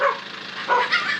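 Dogs let out a quick cluster of close, loud barks and yips in a short burst, with no talk over them.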